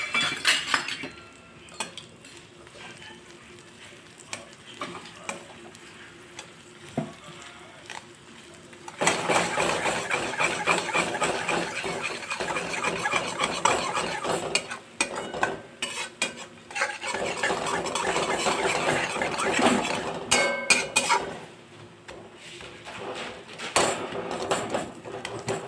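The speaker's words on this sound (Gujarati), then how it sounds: "મેં 3 ટીસ્પૂન જેટલો દાબેલીનો મસાલો લઈ લીધો છે। એને પણ આપણે સાતળી લઈશું।" Dabeli masala sautéing in a pan, with steady stirring, scraping and faint clinks of a spoon against the metal, growing busier midway.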